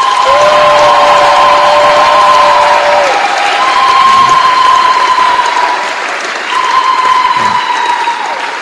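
A large crowd at a public gathering in Kasai province breaks into loud, sustained applause and cheering, steady clapping filling the whole moment while a voice carries over it through a loudspeaker.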